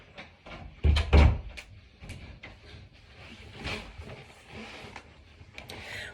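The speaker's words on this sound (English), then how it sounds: "I'm going to shut my door." A door being shut at home, with a couple of heavy, close thumps early on, then quieter movement and faint rustling for the rest of the short clip.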